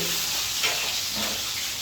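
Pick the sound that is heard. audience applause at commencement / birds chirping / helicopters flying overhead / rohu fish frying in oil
rohu fish frying in oil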